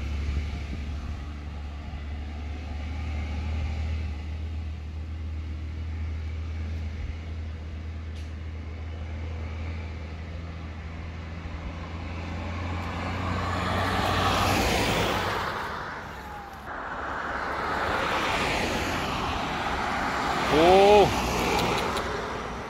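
An Isuzu pickup truck driving up and overtaking on a road, a low engine hum swelling into a loud whooshing pass, with a voice talking near the end.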